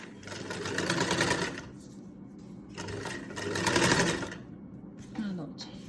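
A sewing machine stitching a neckline runs in two close, loud bursts of rapid whirring separated by a pause, with a brief mechanical clunk near the end.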